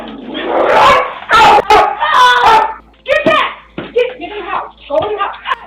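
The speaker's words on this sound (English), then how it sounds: "She picked up Max, but the pit bull wouldn't give up." Pit bull barking and snarling while attacking a small dog in a street, with loud, frantic barks, yelps and whimpers in rapid bursts, mixed with shouting voices.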